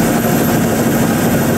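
A helicopter drones steadily and loudly as it prepares to take off, its rotor and engine producing a continuous close-up hum with no voices.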